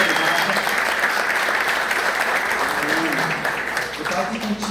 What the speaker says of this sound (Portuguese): Uma forte palma de palmas ao Senhor